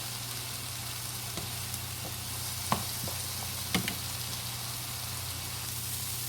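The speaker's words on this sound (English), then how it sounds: "It's all sauteed up in here." Broccoli and other vegetables sauté in a pan for a veggie-stuffed spaghetti squash, giving a steady, close sizzle throughout with a few light clinks and stirring taps, no talking.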